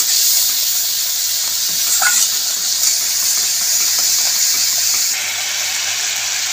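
Spice paste of coriander, cumin, chilli and turmeric sizzling and being stirred in hot oil in a pan for Bengali parshe fish curry, a loud, steady frying hiss with occasional scraping from the spoon.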